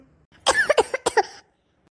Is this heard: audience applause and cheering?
no